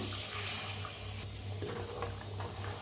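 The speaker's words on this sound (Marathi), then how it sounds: "थोडस पाणी घालूया" Water poured into a steel mixer jar while making kat vada masala with Kolhapuri red chilli and cumin powder, a steady continuous pour heard close up with no voices.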